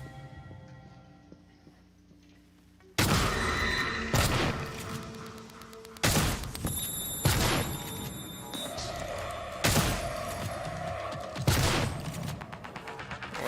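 Gunfire in the video game Prey (2017), a series of loud, heavy shots spaced a couple of seconds apart, each with a ringing tail, over a low ambient background.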